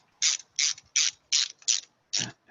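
Six crisp ratchet clicks in an even rhythm, close and loud, as a part is tightened down against a rubber seal on a 1973 Rolls-Royce Silver Shadow; no talking.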